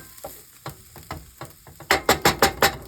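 Peppers and onions frying in a pan for home fries, with a steady soft sizzle under a series of sharp clinks and scrapes of a utensil stirring, growing louder and more rhythmic toward the end.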